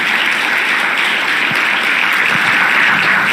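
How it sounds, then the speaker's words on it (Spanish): Loud, dense applause from a church congregation, a continuous clatter of many hands clapping at once, steady throughout. "denle un aplauso fuerte al Señor"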